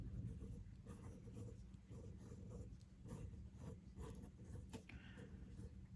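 Pencil scratching over paper while sketching a pine tree, a dense, continuous scraping and rubbing texture with short strokes, close up, with no talk.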